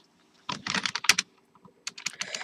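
Fingers tapping on a computer keyboard in two quick bursts of clicky keystrokes separated by a brief pause, close and fairly quiet.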